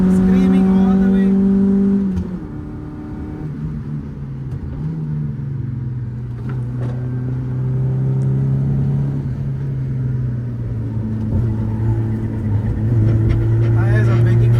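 Suzuki Baleno Altura wagon engine pushed hard on a racetrack lap, a loud sustained drone that climbs in pitch, drops briefly at a gear change, then rises and holds again, close and continuous.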